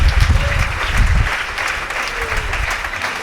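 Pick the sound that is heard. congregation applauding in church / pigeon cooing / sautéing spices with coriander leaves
congregation applauding in church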